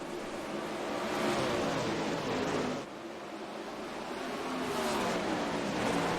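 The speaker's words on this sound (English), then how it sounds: "410 sprint cars. 20 cars. 35 laps. We're green flag racing here at Eldora." 410 sprint cars race at Eldora in a racing sim video game, with engines roaring in a dense, steady pack that dips briefly midway and then swells again, rather quiet overall and with no talk.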